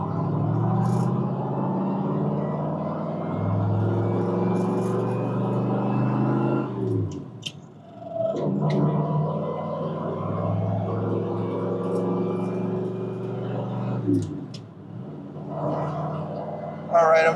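A 1967 Corvette 427 pulls away in first gear, its deep V8 rumble climbing in pitch, dropping at a brief shift, then building again. The engine sounds close and loud from inside the car.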